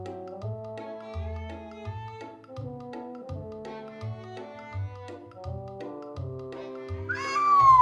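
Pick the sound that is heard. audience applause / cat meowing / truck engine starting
cat meowing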